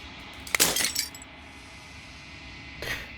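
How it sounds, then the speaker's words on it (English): Glass shatters in the video game Slay The Princess: a sharp crack bursts into a spray of tinkling shards, fades, then a smaller second tinkle follows moments later against a quiet hum. "As the final fragment of glass shatters"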